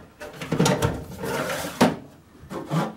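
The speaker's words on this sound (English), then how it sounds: "Now I am ready to insert my drawers." Wooden drawers slide into a Kallax cube storage shelf, several scraping, rumbling pushes with soft knocks as each one seats, heard up close with no talking.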